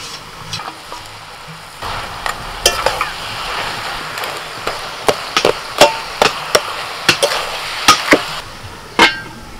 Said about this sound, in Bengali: এবার আমি মাছ আর আলু দিয়ে দিচ্ছি।